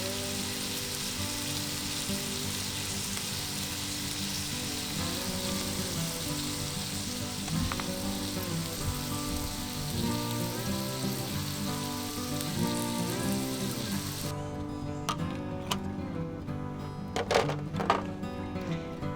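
Sausage and bacon frying in a Lodge Cook-It-All cast-iron cooker over a mountain campfire, a steady dense sizzle with crackles that stays loud throughout, with occasional sharper pops near the end.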